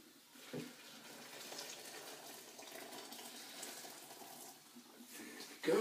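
A litre of hot water pours onto twelve breakfast tea bags for tea wine, a faint continuous splashing rush heard close up, ending with a small knock.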